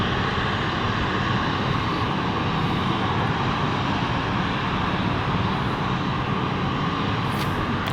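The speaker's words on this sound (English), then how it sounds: "Got another plane coming in." A steady, loud airplane engine drones overhead without a break, a continuous broadband roar with no talking.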